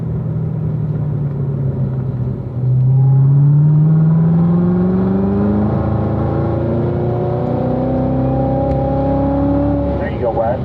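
A performance car engine at Spring Mountain Motorsports racetrack during a driving school session, droning steadily and then climbing smoothly in pitch as throttle is applied uphill, heard close and loud for the whole stretch.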